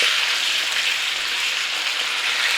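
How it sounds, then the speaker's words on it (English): Chicken searing in hot oil in a tray: a steady, loud, close sizzle that stays even and unbroken throughout. "we're just trying to put a little bit of a sear on there"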